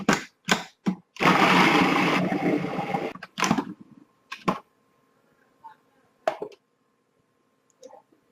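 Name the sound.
food processor chopping onion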